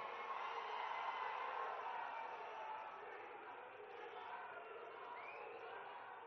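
A rally audience welcoming a chief minister applauds and cheers, a dense, steady crowd roar heard from a distance that eases slightly toward the end.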